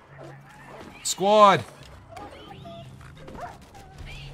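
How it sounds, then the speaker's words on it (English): Wolves in the video game Minecraft Legends barking and yipping amid battle, one loud bark standing out over ongoing game noise while a player speaks. "The dogs are definitely helping."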